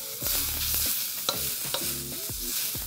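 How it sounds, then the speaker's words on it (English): Cabbage and carrot sizzle as they stir-fry in a hot wok while a utensil scrapes and clanks, stirring in quick, irregular strokes close by. "you want to stir fry the cabbage before the sauce"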